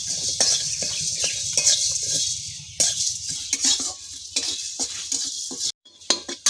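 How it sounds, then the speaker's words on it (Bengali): Cinnamon, cloves and black peppercorns rattle and scrape in a hot dry kadai as they are stirred, a steady crisp patter with clinking utensil strokes. "এটা শুকনো কড়াইয়ের মধ্যে ভেজে নেব।"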